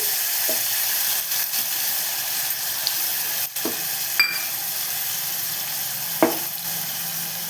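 Chana dal (split chickpea lentils) sizzles steadily in hot oil in a pan for a pumpkin and chickpea vegetable dish, with a few clinks and stirring sounds over the continuous frying hiss.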